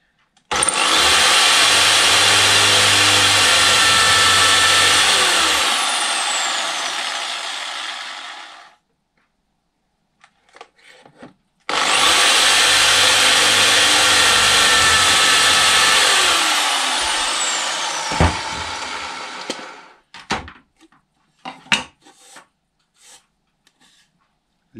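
A power drill with a wood drill bit bores dowel holes into a wooden panel through a dowel jig, making two long, loud whirring bursts, each several seconds, separated by a pause and followed by faint clatter.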